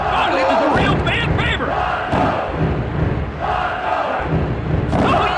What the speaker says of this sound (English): Check out this crowd! They're on their feet!